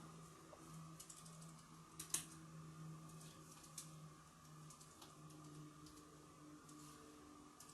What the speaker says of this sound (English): I'm really not good at typing at the moment.